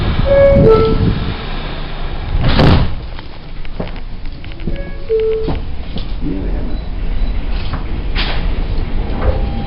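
New York subway W train doors closing on the Astoria-Ditmars Boulevard to Whitehall Street run, with two short chime tones several seconds apart, door thumps and continuous rumbling car noise.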